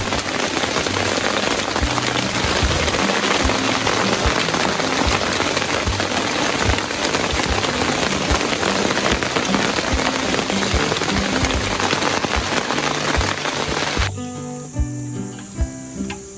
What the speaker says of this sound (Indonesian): Hujan kembali turun.